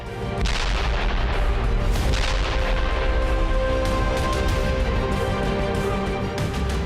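A sustained, roaring rumble of a large blast at an IRGC missile site after a US strike, loud and close, with crackling bursts layered over a continuous low boom that barely fades.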